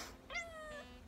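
A single short cat meow, a clear rising-then-falling cry heard indoors at low volume, alone with no voices.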